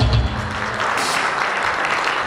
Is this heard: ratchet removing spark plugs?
no